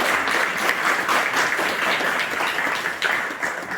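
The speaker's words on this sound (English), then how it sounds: "I think we should give her a round of applause for making the time today" An audience at a Minority Ethnic Forum 25th anniversary event gives a round of applause, dense steady clapping from many hands filling the room for several seconds, with no one talking over it.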